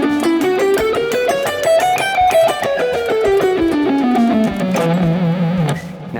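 Distorted electric guitar plays a rock and roll scale blending the Dorian mode with the blues scale, climbing steadily note by note and then descending, loud and continuous with a slight bend at the end.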